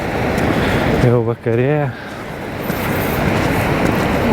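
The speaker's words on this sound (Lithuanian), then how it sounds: "Vandenynas ošia." Ocean surf roaring steadily on the Portuguese coast at dusk, a constant broadband wash under a brief spoken remark, with wind rumbling against the microphone.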